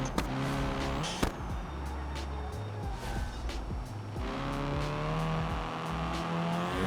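A car engine in BeamNG revs and accelerates through rising gear pulls, shifting up with brief drops before climbing again, loud and close with faint tire noise and a voice talking over it.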